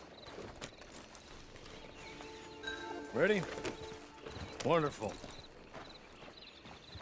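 A horse's hooves clip-clop in Red Dead Redemption Online, with a couple of whinnies rising over the steps midway, while a voice speaks briefly nearby.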